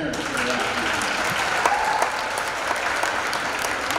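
Parents and cadets at a Navy JROTC annual military inspection give sustained crowd applause, a steady even patter of many hands with faint voices underneath.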